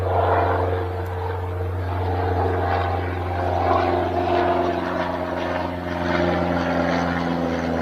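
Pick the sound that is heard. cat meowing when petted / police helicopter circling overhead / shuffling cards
police helicopter circling overhead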